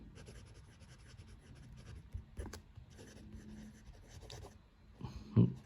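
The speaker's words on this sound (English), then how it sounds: "let's do a writing sample now with the Stipula Etruria" A Stipula Etruria Gorilla fountain pen with a steel medium nib scratches across paper in quiet, close, continuous strokes, with a few short pauses and a slightly louder scrape near the end.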